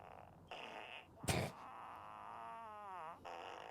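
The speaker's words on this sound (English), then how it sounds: "It's fart sound effects." A novelty sound toy plays electronic fart effects: a short burst, then a warbling, buzzy tone that wavers and slides in pitch, fairly faint and alone.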